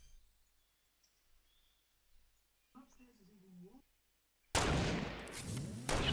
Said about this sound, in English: Those shots are directly south.